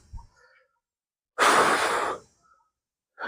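After a gym workout on the first day of a weight-loss challenge, a person breathes hard and out of breath, with one long, loud, close exhale between short, fainter breaths and no speech.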